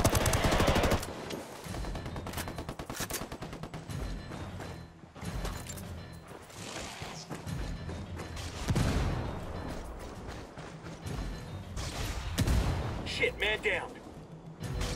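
Gunfire rattles through a firefight in Ghost Recon Wildlands, rapid automatic bursts and scattered shots crackling close and loud in clustered volleys amid battle noise, with a voice talking between the bursts.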